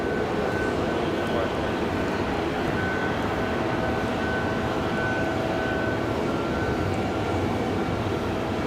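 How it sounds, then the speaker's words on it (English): A Delta Boeing 757 landing after arriving from Atlanta gives a steady, moderately loud engine rumble and rushing noise with a thin whine, constant and unbroken. "So again, Delta 757 coming in from Atlanta. Smoothly down."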